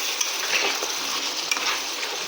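Beef and taro are stirred and sautéed with a splash of water, making a loud, close, steady hiss with quick scraping stirs and a few sharp clicks.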